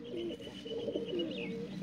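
Sheikha pigeon cooing softly, a faint low warbling coo repeated in a continuous murmur at close range.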